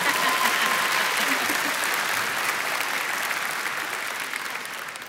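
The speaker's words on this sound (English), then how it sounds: "You could clap for the Vice President of Academic Affairs." Sustained applause from a large commencement crowd at a community college graduation for the Vice President of Academic Affairs, a dense even roar of clapping that slowly tapers off.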